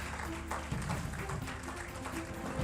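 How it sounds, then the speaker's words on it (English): Audience applause at a university awards night, a steady dense clapping wash filling the hall, fairly quiet and even throughout with no speech over it. "Please keep the applause going, ladies and gentlemen."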